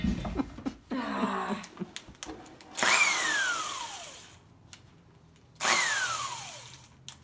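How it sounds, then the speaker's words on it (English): An impact wrench on a farm hammers away at a stubborn bolt in several short bursts, then two longer loud rattling runs that each slow down audibly, close up with no talking. "Clearly, my dad needs a new impact wrench."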